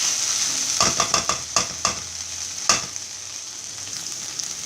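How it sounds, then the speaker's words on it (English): Okra sizzles steadily as it fries in a hot pan while a utensil scrapes and stirs in a quick series of strokes, then a louder scrape and quieter sizzling. "It's now been about 6 minutes since I have been frying this okra."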